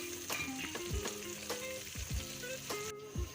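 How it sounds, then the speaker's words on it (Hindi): Chickpeas sizzle in hot masala in a pan for chana pulao. A steady frying crackle sits under repeated scraping knocks from a spoon stirring the mix. "फिर इसमें चने डालते हैं, चने को थोड़ा सा भूनेंगे"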